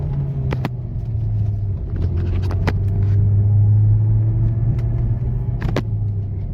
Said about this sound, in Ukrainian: автомобіль поїхав, дивіться.